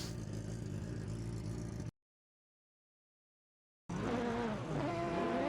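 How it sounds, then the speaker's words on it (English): Race car engines rev at the start of a Radical league race, a loud sustained engine drone that cuts out to silence midway, then returns with rising, sweeping revs. "The lights are up, engines are revving."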